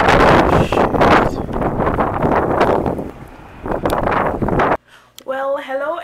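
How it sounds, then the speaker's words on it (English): Strong wind buffets the microphone outdoors after snowfall has stopped, in gusty bursts with a brief lull, before a voice starts speaking near the end. "It's just windy outside now."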